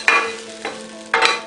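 Grated coconut roasting in ghee in a pan, a soft frying sizzle punctuated by three quick, close stirring scrapes of a spoon.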